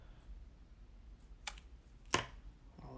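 Scissors snip ribbon tails during card making, two quick close clicks standing alone over a quiet background.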